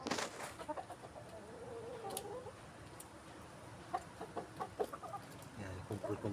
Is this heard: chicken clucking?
yes